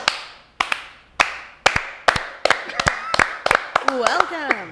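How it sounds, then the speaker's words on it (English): Sharp hand claps ring out, spaced at first and then speeding into quicker, overlapping claps, with a voice joining in toward the end. "That's a pretty good clap."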